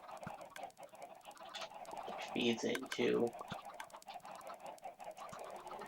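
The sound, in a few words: chickens clucking in a cage in Minecraft video game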